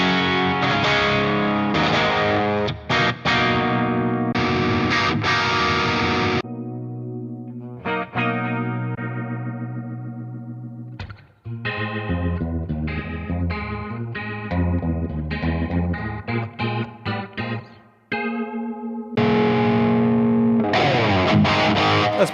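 Electric guitar through an amp preset on a TONEX Plug modeler, chorus-tinged and driven, playing chords and riffs with gaps where notes ring and fade out, loud and close, no talking.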